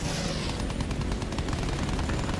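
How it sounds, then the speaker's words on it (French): Dense, sustained machine gun fire in the Battlefield 1 video game, a continuous loud rattle of rapid shots blending with battlefield noise, with no talk over it. "Bah oui carrément la mitrailleuse, putain c'est un délire."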